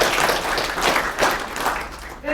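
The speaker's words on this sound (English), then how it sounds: "Give yourselves a round of applause." A gathered crowd at a community conversation claps for itself, a loud, continuous wash of applause with some murmuring voices mixed in.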